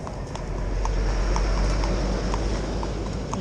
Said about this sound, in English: another big truck coming now